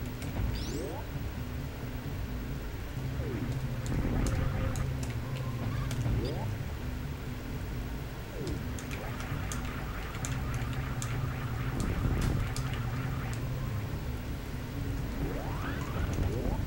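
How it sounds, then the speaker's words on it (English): Heavy rain pours steadily outdoors in a constant hiss, while birdlike chirps and faint talking come and go beneath it. "It's raining like crazy outside right now."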